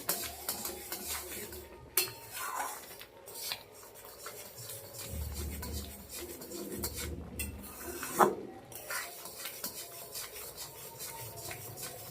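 Raw green mango pulp being stirred in a pan, with a spoon scraping and rubbing against the metal in steady, irregular strokes, close by and alone, no talking.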